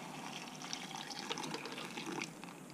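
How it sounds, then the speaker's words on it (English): Hot water is poured over dried hibiscus to make tea, giving a steady, soft splashing pour with light trickles throughout. "I'm going to pour this hot water now all over this stuff."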